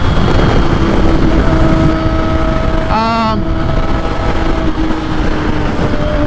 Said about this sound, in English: And just listen to his bike. They just sound so good.